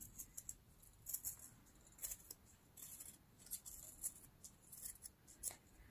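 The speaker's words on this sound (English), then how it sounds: "with my scissors, I'm gonna cut about one eighth of inch" Quiet, close snipping of scissors cutting acetate, a series of small light cuts in an irregular rhythm against a soft background hiss, with no talking.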